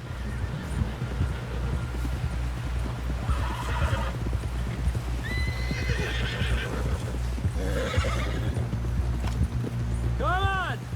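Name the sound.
horse galloping, from the video game Red Dead Redemption 2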